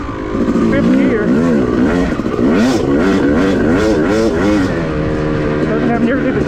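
A Yamaha YZ dirt bike engine revs hard in fifth gear on a wooded off-road trail, its loud, close whine rising and falling continuously as the rider accelerates.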